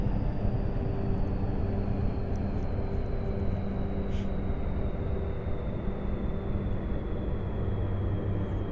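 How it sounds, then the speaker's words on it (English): Aircraft engines spooling down in the X-Plane 11 flight simulator: a steady, loud broadband engine roar with a slowly falling high whine, continuous throughout. "So we're going to shut down the engines."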